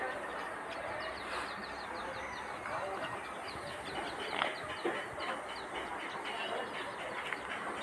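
Native and broiler chickens on a poultry farm, giving scattered clucks and short calls at moderate distance over a steady background hum, fairly faint.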